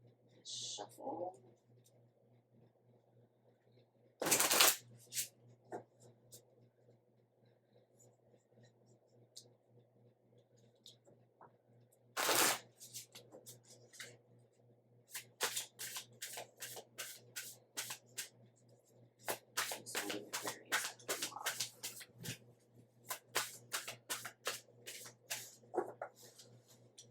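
Tarot cards shuffled in repeated bursts of crisp riffling and slapping, the pace quickening toward the end, with a few soft quiet words at the start and a steady low hum underneath.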